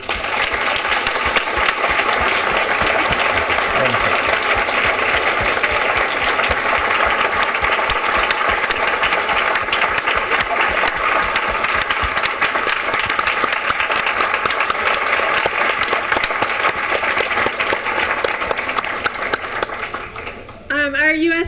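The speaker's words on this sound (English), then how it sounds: "Big round of applause." A large audience at a university evening talk breaks into long, sustained applause. Dense, even clapping continues for about twenty seconds before tapering off at the end.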